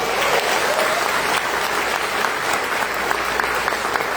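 Steady applause from a church congregation honoring Jesus, a dense, even wash of many hands clapping close by with no talk over it.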